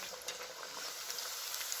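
Sabudana vada fry in hot oil with a steady, close, crackling sizzle and no voices.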